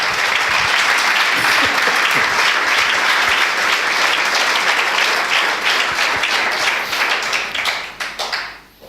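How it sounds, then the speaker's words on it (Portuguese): A church congregation bursts into loud, sustained applause that runs thick and even for several seconds, then thins into a few scattered claps as it dies away. "Eu acho que ele merece um aplauso dessa vitória tão grande."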